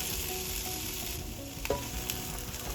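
Onion with cinnamon, cloves, cardamom and red chillies sautés in a pan for paneer butter masala, a steady close sizzle with a couple of sharp spoon clinks against the pan.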